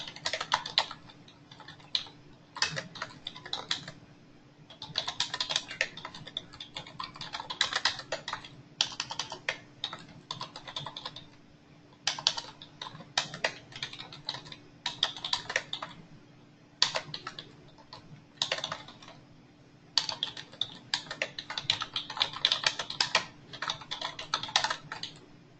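Steady typing on a computer keyboard during office billing account work, with bursts of rapid key clicks separated by short pauses, close and fairly quiet over a low constant hum.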